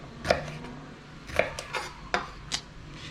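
A knife cutting through a jalapeno on a board, a few sharp separate clicks and taps against the surface with short pauses between, close and fairly quiet.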